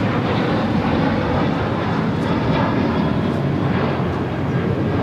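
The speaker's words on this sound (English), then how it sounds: "And Air Canada, the Dreamliner, getting ready for takeoff." Air Canada Dreamliner taking off on runway 25 right at LAX, a continuous loud jet engine roar with a hiss, steady and unbroken.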